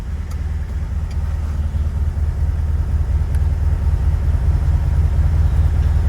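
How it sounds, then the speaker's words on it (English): A 1971 Volkswagen Beetle engine idles in a steady, low rumble at close range, even and unbroken, with a few faint clicks above it. "engine's still running"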